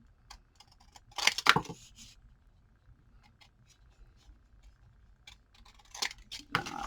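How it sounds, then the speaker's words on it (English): Hand scissors fussy-cut paper edges for a layered pocket, giving a few short crisp snips in two small bursts with quiet gaps between. "I'm just going to try to cut it"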